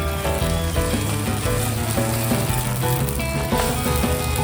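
Western omelette ingredients sizzle on a flat griddle with a steady, dense frying hiss that stays loud and even throughout, punctuated by faint spatula ticks.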